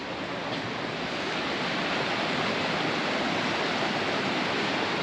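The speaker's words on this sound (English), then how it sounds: "Maybe check out the river over on this side." A river flows through a colourful hillside village, heard as a steady, even wash of rushing water that fills the background at moderate volume without pause, with no voices.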